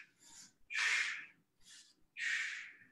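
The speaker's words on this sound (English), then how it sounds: "Breathing in, breathing out." Close, audible breathing while stretching after a workout: two paired cycles, each a short lighter inhale followed by a longer, louder rushing exhale, with no talk over them.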